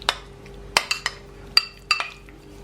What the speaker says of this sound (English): I'm going to add to my coconut some chia seeds, really healthy. And we are going to mix these together